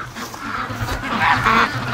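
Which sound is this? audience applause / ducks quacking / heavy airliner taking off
ducks quacking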